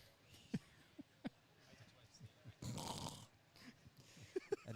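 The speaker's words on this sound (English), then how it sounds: "That is not me making that horrendous snoring noise." A man snores at a longsword tournament, with rough rasping breaths and a longer, louder snort in the middle, heard faintly in a quiet room.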